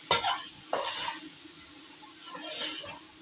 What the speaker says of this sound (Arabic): نفضل نقلب فيها كده قوي